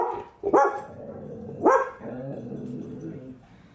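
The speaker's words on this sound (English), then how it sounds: "Guard dogs." A dog barks twice, about a second apart, fairly close, with quiet room noise between.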